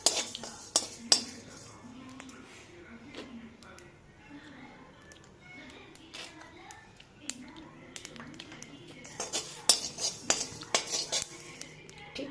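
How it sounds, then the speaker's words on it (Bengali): Whole spices dry-roasting in a dry pan for Bengali shukto, with repeated metallic clinks and scrapes of a spatula stirring against the pan, busier toward the end, under a low kitchen background. "গোটা মশলাগুলোকে আমি শুকনো খোলায় রোস্ট করে নেব।"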